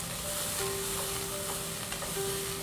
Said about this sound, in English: We'll saute this on a medium flame for 2 minutes.